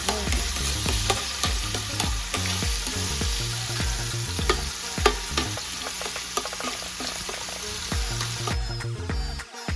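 Garlic sizzles and crackles steadily in a hot frying pan, with busy stir and spatula scrapes across the whole stretch, close and fairly loud, the hiss thinning out near the end.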